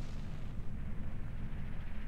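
Deep rolling explosions in Zelda Ocarina of Time after the Fire Temple, a steady low rumble of repeated blasts, muffled and moderately quiet, without talk.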